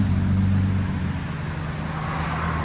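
RAM 3.6L V6 fitted with a MagnaFlow knockoff muffler, giving a steady low exhaust drone close by, slightly louder early on and easing to a moderate hum.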